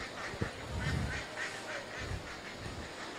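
A small group of ducks on a sheepdog demonstration field gives faint, repeated nasal quacks in a loose rhythm, heard at a distance over a steady outdoor background with no talking.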